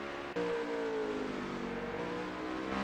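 A race car engine in a racing video game revs up steadily and loudly with a rising whine as the car gets going again, holding a sustained roar throughout.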